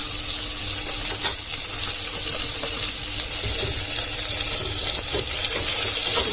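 Curry leaves and dried red chilies sauté in a pan, giving a steady, close, continuous sizzle with faint stirring scrapes throughout and no talking.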